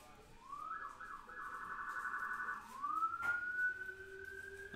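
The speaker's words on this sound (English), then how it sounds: "sirens coming" Police or fire sirens wail in the distance, rising and sweeping in pitch over several seconds, fairly faint and alone without talk.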